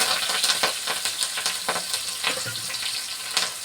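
Onion, green chilies, mustard seeds, cumin and curry leaves fry in hot oil with a steady close sizzle, crackling throughout and joined by occasional stirring scrapes.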